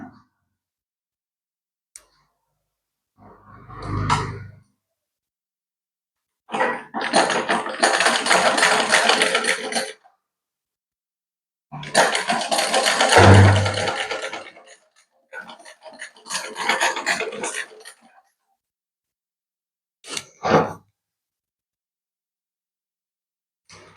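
A sewing machine stitching elastic onto a nightie, running in several separate bursts of rapid mechanical clatter at close range with silent gaps between runs.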